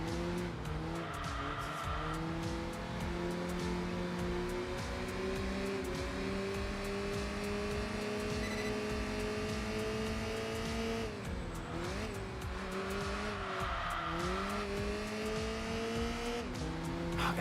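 Nissan Skyline with an upgraded L20 engine and upgraded exhaust in the racing game Enthusia Professional Racing, a continuous droning engine note that rises and falls through gear changes, with tire squeal underneath.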